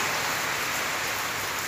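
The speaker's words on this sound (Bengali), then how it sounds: "বৃষ্টিটা কী যে শুরু হলো আজকে 5টা 5:30" Heavy rain pours down during a hailstorm at a home, forming a steady, dense hiss of water that stays loud and even throughout, with no voices.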